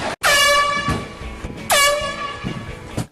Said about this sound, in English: I got mad with the old air horn prank.